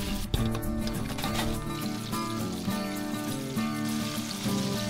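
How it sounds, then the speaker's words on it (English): Thick fish fillets frying in a batch of oil on an outdoor grill, a continuous dense crackle and sizzle with sharper pops and a brief clink near the start. "always put your thicker fillets in first in each one of these lifts when you're frying it"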